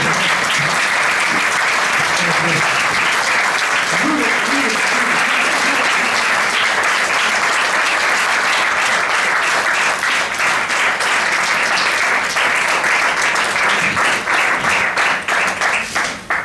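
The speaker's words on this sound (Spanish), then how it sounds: "Os pido un fuerte aplauso." Loud, continuous audience applause at a book presentation, a dense wash of many hands clapping steadily throughout with a few voices faintly underneath, tapering only at the very end.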